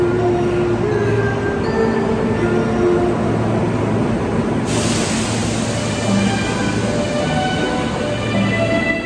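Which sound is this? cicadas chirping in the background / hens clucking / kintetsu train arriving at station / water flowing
kintetsu train arriving at station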